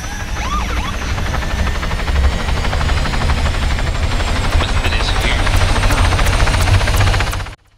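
A helicopter is heard close by with a loud continuous rotor chop and engine whine that holds steady throughout and then cuts off abruptly near the end.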